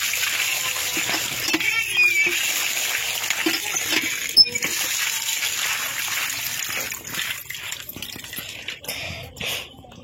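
Fish being washed in river water in a sandy riverside area, with steady splashing and sloshing throughout, a sharp splash near the middle and trickling toward the end, close by and moderately loud.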